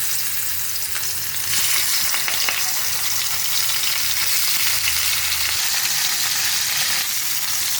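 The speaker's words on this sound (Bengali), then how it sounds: "তেল দিয়ে ভালো করে মাছগুলো ভেজে নেব আমি" Satin fish pieces fry in hot oil in a wok, producing a loud, dense, continuous sizzle with occasional faint stirring scrapes, heard up close with no talking.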